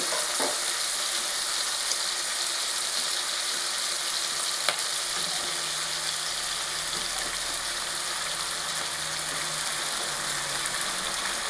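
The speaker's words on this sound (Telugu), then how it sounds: "ఇప్పుడు వంకాయలు వేసుకున్నాము మిగిలింది కూడా మగ్గిపోతుంది" Eggplant and tomato curry with dried red chilies fries in oil in a pan, giving a steady, close, continuous sizzle with faint stirring scrapes and no talking.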